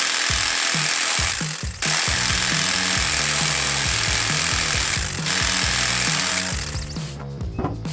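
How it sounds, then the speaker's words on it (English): A power saw cuts timber beams to length for a house frame, its motor droning loudly and steadily with repeated rhythmic cutting strokes and brief pauses between passes, close by, with no talk. "We cut the beams to the required length."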